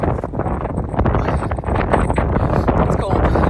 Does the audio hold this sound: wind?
yes